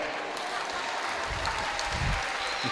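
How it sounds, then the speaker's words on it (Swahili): Applause from an audience at a church chaplaincy gathering, a continuous wash of clapping that stays steady under a few low thumps. "Hayo makofi ni ya watu wa Kilimanjaro au Mbeya?"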